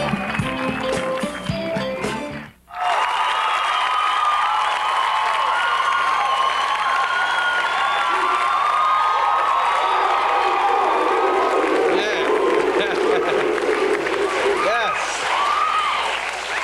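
A television talk-show studio audience cheers and applauds loudly after a brief burst of sound and a short drop-out, a sustained roar of clapping, whoops and shouts lasting many seconds.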